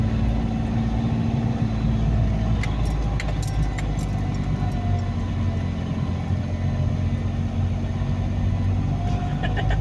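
A Toyota Wigo's engine labors as the small car climbs a steep road from Talisay, Batangas toward Tagaytay, a constant loud drone with rumbling cabin noise throughout and a few faint clicks and rattles.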